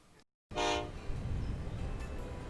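A train set out on the line in the video game Transport Fever 2 gives a short horn toot after a brief silence, then a steady rolling rumble continues alone.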